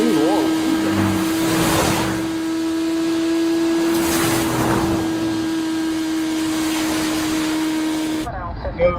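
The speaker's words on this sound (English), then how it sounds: "That bike doesn't sound right. It's revving too hard." Motorcycle engine revving hard and steadily with a strong sustained tone, heard alongside a truck with a loaded seat, while people talk over it; the sound cuts off abruptly near the end.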